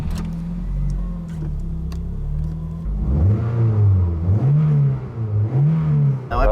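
A 1996 Toyota MR2 barn find drives and accelerates, its engine humming steadily before rising and falling in pitch through repeated revs, close and loud with no talking.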